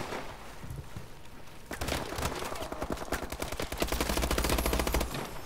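Rapid automatic gunfire in the video game Call of Duty Advanced Warfare, a dense rattling stream of shots that starts partway in and grows louder and heavier toward the end.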